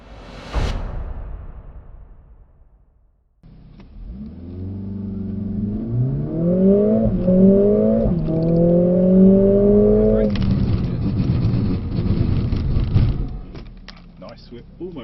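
A Mercedes-AMG CLA45 S or A45 S accelerates hard on a track with its exhaust valves open, the engine climbing through gears in rising tones before backing off, with talk inside the car.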